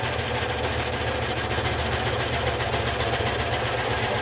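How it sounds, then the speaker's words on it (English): A serger sewing machine runs steadily as it serges the edge of fabric for bell-bottom jeans and a necktie belt, a close, dense, even mechanical whir without pause throughout. "put it on the machine and serge it off"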